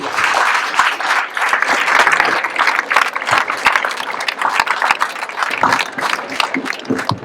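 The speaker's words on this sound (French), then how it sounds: "on peut applaudir très fort, on peut vous applaudir" A large crowd of about 2,100 people at a breast cancer charity run in Malestroit claps loudly and continuously, with dense overlapping hand claps throughout.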